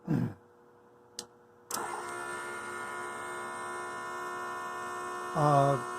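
A waste vegetable oil fuel system switches on with a faint click, then a steady electric pump hum and circulating whir runs without a break, rising briefly louder near the end.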